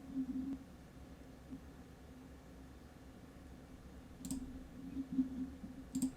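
A computer mouse clicks a few times, sharp and faint, over a quiet background hum while software is chosen for download.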